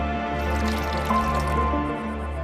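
Water is poured into a glass for drinks, a steady close splashing fill over a constant background hum.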